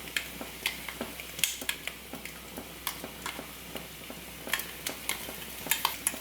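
Crushed ginger, garlic and green chili are stirred in a biryani pan for crab biryani, giving quiet, irregular taps and scrapes of a spoon over a faint sizzle, close by, without talk.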